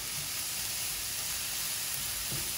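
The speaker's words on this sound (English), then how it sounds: "we're just gonna go ahead and keep our flame down, not so high, and just kind of saute this through" Cheesesteak omelette filling sautés over low flame in a pan, giving a steady, soft sizzle and hiss throughout with no talking.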